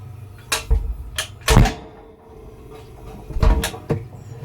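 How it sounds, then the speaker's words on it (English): An old 1940s Kelvinator cabinet door is closed, giving a few dull wooden thumps and knocks spread over several seconds, with softer rattles between them and no talking. "If I shut this door."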